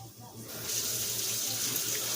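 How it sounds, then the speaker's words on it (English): Hot water pouring steadily from a kitchen tap into a sink, a loud continuous rush that swells after a short start. "I am going to turn on the hot water because I'm going to need about 3 cups."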